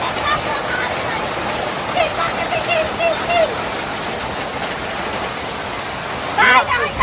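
Heavy rain falls in a village in the hills as runoff from the hillside streams past, making a steady, dense wash of noise close by. A few faint voices come through the downpour.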